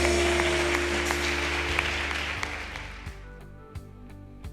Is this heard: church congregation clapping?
yes